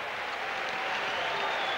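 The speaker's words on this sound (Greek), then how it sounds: "ακούτε, πιστεύω, τα χειροκροτήματα των φιλάθλων, των Ελλήνων φιλάθλων" Greek spectators applaud at a basketball World Cup quarter-final between Yugoslavia and Argentina, a steady, dense wash of clapping from the crowd that holds at an even level.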